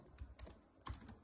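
Several quick keystrokes on a computer keyboard, clustered in short bursts with brief pauses, faint and close with no talking.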